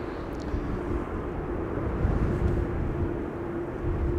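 An Air France Bombardier C-Series airliner arriving at Amsterdam Schiphol on a windy day, a loud steady jet roar with a low rumble and a faint sustained whine, continuous throughout with no voices.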